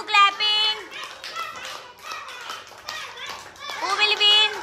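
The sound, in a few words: children clapping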